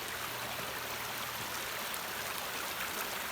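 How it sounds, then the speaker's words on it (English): Floodwater comes down from a road and the woods above it on a farm, a steady soft rush of flowing water like a stream, constant and moderately distant with no voices. "the water's coming from up the road here, and also from this direction, which is further up in the woods"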